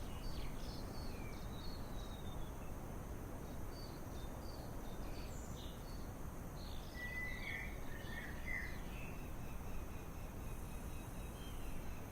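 Birds in an aviary in Microsoft Flight Simulator 2024, chirping and tweeting in scattered short calls over a steady background hiss, faint and continuous, with no talk.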